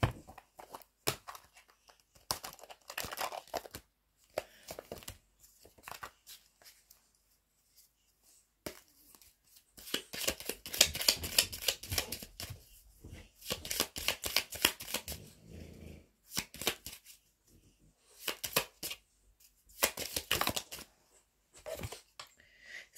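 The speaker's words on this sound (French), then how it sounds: "je vais vous tirer une carte de chaque." Tarot cards shuffled and drawn close up: rapid papery riffles and flicks in dense bursts with short quiet gaps, building into long crisp shuffling runs over about twenty seconds, with no speech.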